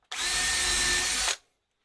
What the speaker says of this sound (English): You use the regular drill. You only make 2 holes